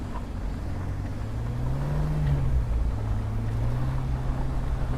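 A 2005 Jeep Rubicon crawling in 4 low at about 3,500 RPM gives a steady, loud low drone from inside the cab, its pitch rising and dipping slightly.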